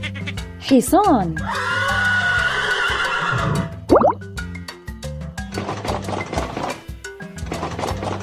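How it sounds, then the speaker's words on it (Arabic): A horse gives a loud, close whinny with a shaky, trembling tone that lasts a couple of seconds, surrounded by bouncy plopping sound effects. "حصان."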